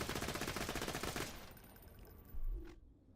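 Rapid automatic gunfire from a gun in the video game Borderlands 2, a dense rattling burst that cuts off after about a second and a half, followed by quieter game tones and a brief low thud.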